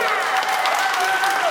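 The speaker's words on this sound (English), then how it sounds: "the fabulous Duprees, give them a round of applause" Audience applause for The Duprees during a Q&A session aboard the Norwegian Joy cruise ship, brief continuous clapping with a faint tonal whine over it.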